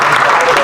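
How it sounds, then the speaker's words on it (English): Crowd at a political rally applauding veterans: a short, loud burst of dense clapping mixed with crowd noise, with a voice faintly present underneath. "A round of applause."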